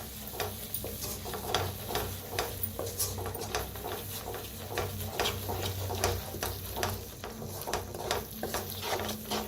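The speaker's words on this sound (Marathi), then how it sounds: "आता मिक्स करून भाजून घेऊया आपण" Egg masala, garam masala and red chilli powder are stirred and roasted in a pan, giving a steady close sizzle broken by repeated spoon scrapes and clinks against the metal, with no talking.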